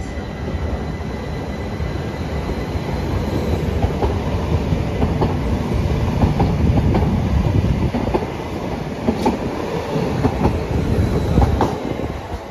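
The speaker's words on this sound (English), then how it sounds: "I'll see you when my train to Ingatstone arrives." A Greater Anglia passenger train rolls into a station, a steady broadband rumble of wheels and carriages with rhythmic clickety-clack and faint squeals building over about twelve seconds, close and loud with no talking.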